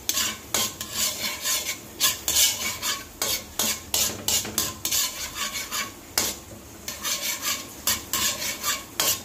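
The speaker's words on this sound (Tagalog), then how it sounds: "Halu-haluin ng kaunti." A spatula scrapes through garlic sizzling in oil in a pan, the first step of a kare-kare, in quick repeated close strokes with brief pauses between them and no voices.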